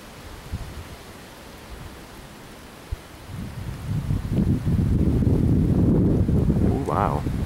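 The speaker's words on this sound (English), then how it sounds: "oh, getting hit by rain." Wind-driven rain from a thunderstorm during a tornado warning in Lincoln, Nebraska, starting as a soft hiss and swelling after a few seconds into a loud, dense rushing gust of rain and wind buffeting the microphone.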